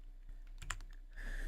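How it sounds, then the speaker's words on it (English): A few quiet keystrokes on a computer keyboard tap over a low constant background hum. The typing comes in a brief, irregular burst and no voice is present. "we're just typing"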